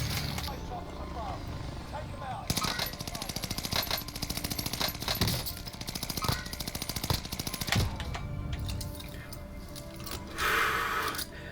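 Gunfire in Warzone 2.0 crackles in rapid bursts, loud and close, broken by brief pauses and mixed with game effects and other noise.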